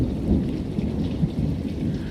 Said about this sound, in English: Major thunder, as y'all guys can hear.